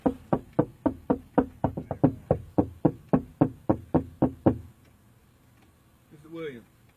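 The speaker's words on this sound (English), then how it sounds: "He just gonna stay right there knocking for the rest of his life" Rapid knocking on a door during a traffic stop, about twenty loud, evenly spaced raps lasting several seconds, then a pause and a brief voice.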